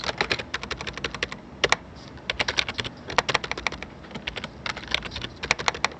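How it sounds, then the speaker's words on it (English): Rapid clicking of keys on a computer keyboard, fast uneven bursts of crisp taps close by with brief pauses between words, no voices. "let's try to type something"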